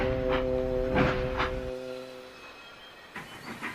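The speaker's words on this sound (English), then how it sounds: "Gordon backed down on his train, hissing mournfully." Gordon the steam engine in the Sodor Online game gives a long hiss of steam, with a chuffing rhythm fading out before a few soft puffs return near the end.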